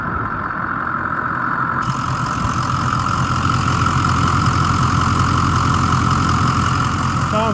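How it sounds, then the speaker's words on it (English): The engine of a 2006 Ford E-450 Blue Bird Handy Bus idles after starting, a steady, even rumble that stays constant throughout with nobody speaking. "the motor, once it started, it sounds really nice. Listen to it."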